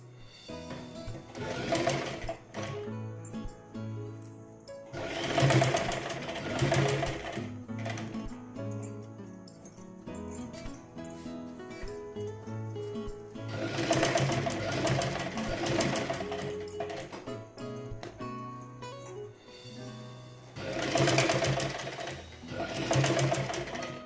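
A sewing machine stitches a princess-cut blouse, running in long steady whirring bursts separated by quieter pauses, up close and fairly loud, with no clear speech.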